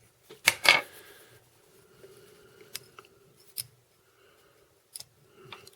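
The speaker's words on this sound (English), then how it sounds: "And let's trim that off." Scissors snip off the excess fly tying material at the hook of an olive turkey biot trout fly. One sharp, close cut comes early, followed by faint scattered clicks and ticks.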